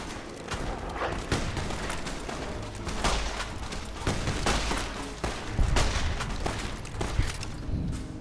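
Gunfire during a battle against Powder Gangers in Goodsprings in Fallout: New Vegas, a rapid volley of overlapping shots and heavy thuds, loud and continuous throughout.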